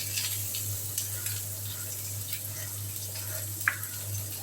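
Half a medium onion, finely chopped, frying in hot oil for a periwinkle snail curry, giving a soft, steady sizzle and hiss with a few faint ticks and stirring sounds.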